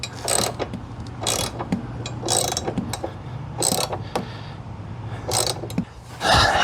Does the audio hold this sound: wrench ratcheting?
yes